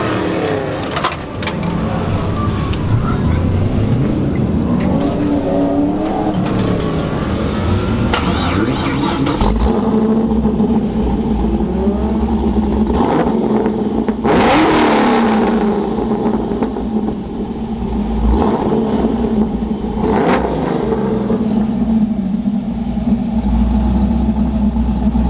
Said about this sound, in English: Would you be able to give me a clip of it like starting up in the exhaust?